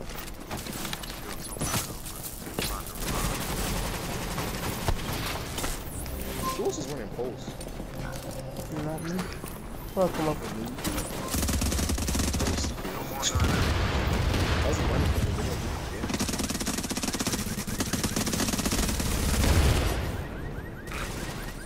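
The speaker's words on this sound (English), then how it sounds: "Look how fast he's shooting that shotgun" Rapid shotgun blasts from the video game Tom Clancy's The Division, repeated booming shots layered in busy gunfire while players talk over the action.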